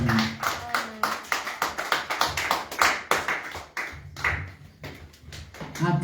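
A church congregation claps in a steady, brisk rhythm of many hands, loud and close, with a few voices rising among the claps.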